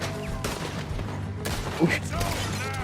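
Gunfire in the video game Red Dead Redemption 2, rapid crackling shots and booms in a busy mix under game music and character dialogue.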